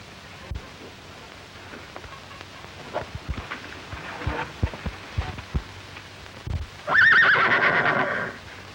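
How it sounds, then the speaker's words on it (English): A white horse whinnies once near the end, loud and close, after a stretch of soft thuds and rustling. "And there are the white horses."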